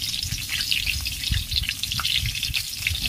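A bay leaf sizzles in hot oil in a wok, a steady bright crackling hiss close up with occasional soft scrapes and pops, no voices.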